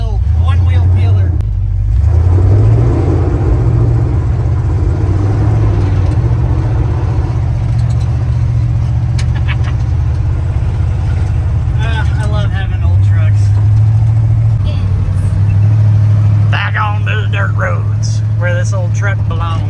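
A 1974 Chevy C20 pickup on its first real drive after being made roadworthy again, with a loud, steady engine drone and road rumble throughout, rising and falling as it shifts, while people talk over it inside the cab.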